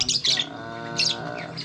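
A bird in a home aviary lets out two harsh, loud squawking bursts close by, separated by a brief tonal call, with no voices.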